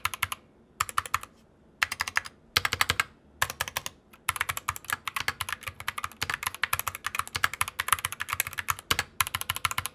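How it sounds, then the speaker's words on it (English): Keyboard with Gateron optical switches and double-shot PBT keycaps typed on in quick, uneven bursts of crisp, slightly hollow clacks, with short pauses early on before a steady run of keystrokes, close and alone. "the sound is a little bit hollow because of the double shot PBT keycaps"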